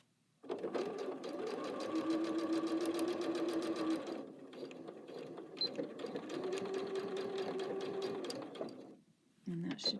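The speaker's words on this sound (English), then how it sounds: "So I'm going to slant my seam just a bit." Sewing machine stitching a seam on a zipper pouch, a close, steady rapid whirring chatter running for several seconds with a brief pause midway, then stopping.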